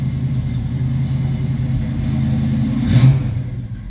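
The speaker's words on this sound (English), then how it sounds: "Hear how smooth that car idles here. We're on high idle." A 1969 Ford Mustang Mach 1 engine idles on high idle after a cold start, a smooth, steady low rumble close by that swells briefly near the end, with no talking.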